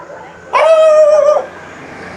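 A dog gives one loud, close, drawn-out bark or yelp lasting under a second, standing out sharply against a quiet background.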